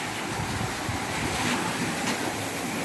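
Steady rushing water from a waterfall water feature in a house restroom fills the space, a continuous broadband wash, fairly close and even throughout.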